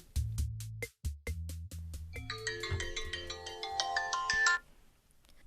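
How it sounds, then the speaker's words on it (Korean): A phone's ringtone for an incoming call: a bright electronic melody that opens with quick staccato beeps over a low tone, then swells into a dense chiming tune before cutting off, loud and alone. "전화가 오셨네요"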